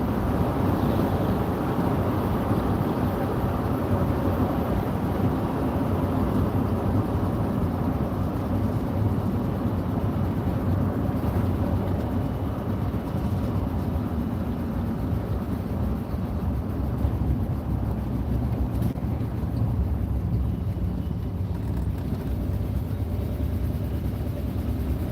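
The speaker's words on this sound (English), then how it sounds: "Sounds like my van's got an exhaust leak." Van being driven with an exhaust leak, a constant loud low rumble and roar heard from inside, unbroken and even in level from start to finish with no talking.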